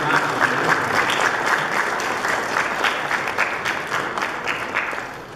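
A church congregation applauds during a Sunday Mass, steady dense clapping from many hands that fills the room evenly and tapers slightly at the end, with no voices over it.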